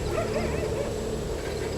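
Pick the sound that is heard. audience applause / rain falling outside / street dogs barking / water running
street dogs barking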